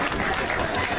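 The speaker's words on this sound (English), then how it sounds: "Il faut applaudir Madame Diouf." Audience at a school government ceremony applauding a newly named student, a brief dense wash of clapping and crowd noise.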